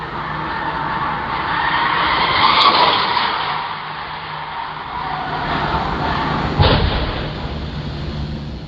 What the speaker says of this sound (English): if you listen, you can hear a squealing coming from the car